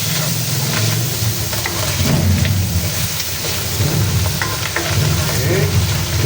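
Creamy chicken and mushroom stirred in a hot pan, a loud, constant sizzle and crackle with occasional scraping of the spoon, close up and dense throughout.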